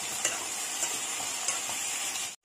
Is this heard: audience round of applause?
no